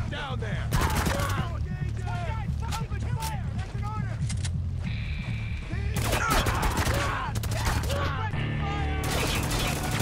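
Sustained gunfire from a Spec Ops: The Line firefight, with dense bursts of automatic shots and crashing impacts filling the scene without letup, and shouted voices breaking through the battle noise.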